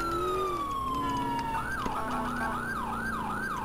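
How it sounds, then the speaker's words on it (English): A video-game police car siren winds down from a steady tone, then begins a fast rising-and-falling wail, loud and close, over a low engine hum of a Mercury Marauder. "let's put our sirens on"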